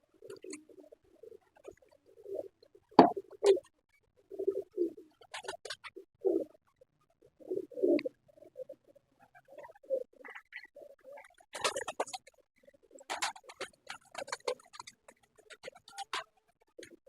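Pigeons on a rooftop give soft, intermittent calls and flutters while being fed grain, with scattered light taps and rustles in quiet surroundings.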